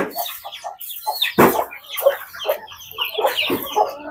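Chickens clucking close by while eating rice, a string of short, uneven clucks and squawks with brief pauses in between, fairly loud and with no talk.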